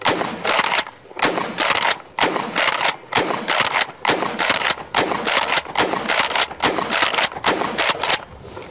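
A Smith & Wesson M&P 12 compact 12-gauge pump shotgun fired outdoors in a rapid string of about sixteen loud, sharp blasts at a fast, even pace, with no talk.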